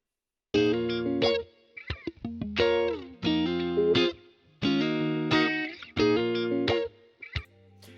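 Clean guitar chords with chorus and echo play in a bouncy, stop-start rhythm, short strummed stabs separated by muted clicks and plucks.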